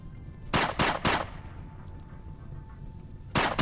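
Gunfire from the colony game RimWorld: two separate bursts of rapid, sharp shots, the first near the start and a shorter one at the very end, with a low steady hum in between.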